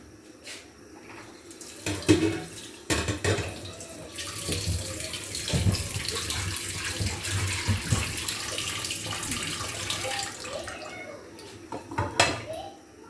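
Mint leaves being rinsed under a running kitchen tap into a sink, a steady splashing water stream over several seconds with occasional clatters of dishes nearby, close and moderately loud.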